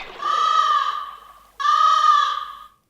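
A human voice imitates a crow cawing: two drawn-out, nasal caws with a short gap between them, fairly loud and close, with no other sound around them.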